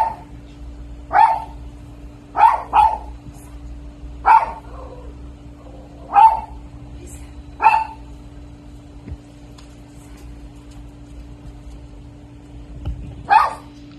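Dogs in a yard, scared of a lizard, bark in short, sharp single yaps spaced a second or two apart, moderately close, with a steady low hum underneath.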